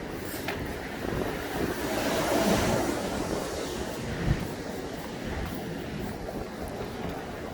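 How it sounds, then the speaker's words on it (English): Steady wind rumbles and buffets the microphone on Bathurst Street in Toronto, a broad constant roar with no voices. "it's a bit windy"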